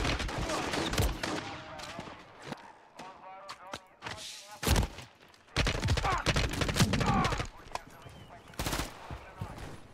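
Rapid bursts of automatic gunfire and heavy shotgun blasts from a Call of Duty Modern Warfare 3 firefight, loud and dense, with sharp cracks repeating in clusters and brief lulls, and voices shouting in between.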